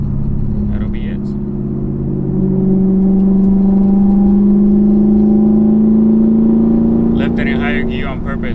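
A 2021 Camaro SS 1LE with a cat delete and MBRP exhaust drones steadily as it drives in a high gear, the exhaust note rising slowly in pitch, with a couple of brief faint clicks near the start and end.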